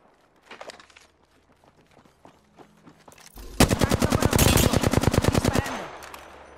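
Rapid automatic gunfire from Apex Legends, preceded by scattered footsteps and small clicks, then a loud, dense burst of evenly spaced shots lasting about two seconds before cutting off.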